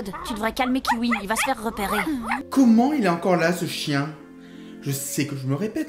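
Kiwi the dog yips and barks in quick, high bursts under overlapping voices, close and lively, the yaps mixed with excited talk throughout.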